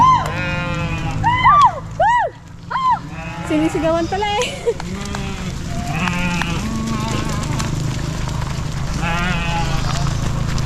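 Goats bleat repeatedly up close on a ranch pasture, several wavering cries in quick succession, while a person talks over the animal noise.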